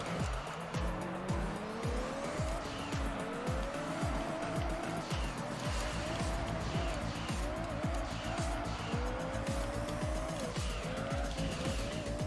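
A prototype race car in Gran Turismo 3 drives on the Autumn Ring track, its engine revving up and dropping repeatedly through gear shifts, with tire squeal, steady and loud throughout.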